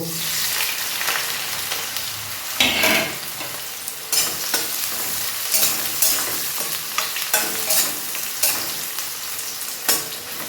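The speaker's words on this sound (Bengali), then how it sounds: "এবার আমার তেলটা গরম হয়ে গেছে এর মধ্যে আমি" Chopped onion fries in hot white oil in a wok, with a loud, continuous sizzle broken by sharp scraping bursts of stirring; no voices.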